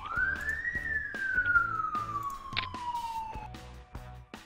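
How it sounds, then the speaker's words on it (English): An ambulance siren passes outside, a loud wailing tone that rises and then slowly falls, heard alone over a faint rhythmic background thumping. "Yep, that was an ambulance."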